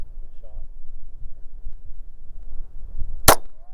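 One sharp, loud handgun shot rings out near the end, after a stretch of quiet talking and low background noise.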